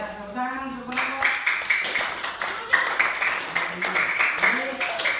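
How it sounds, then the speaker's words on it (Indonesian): A classroom of elementary school students claps for a student group, a dense burst of applause that starts after a brief voice and keeps going while people talk over it. "Ya, tepuk tangan untuk kelompok."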